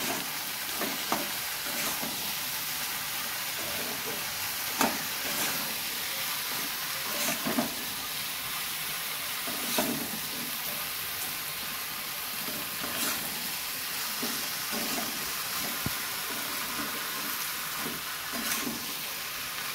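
Ridge gourd pieces frying in a pan for sambar hiss with a steady sizzle, punctuated every few seconds by spatula stirs and scrapes, close and continuous.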